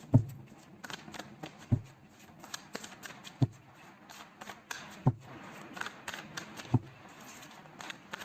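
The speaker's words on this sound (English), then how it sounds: "let's pull some cards from universe" Tarot cards being shuffled and drawn from a deck: soft riffling and flicking with periodic sharp slaps as cards are squared and pulled, close and intimate, no voices.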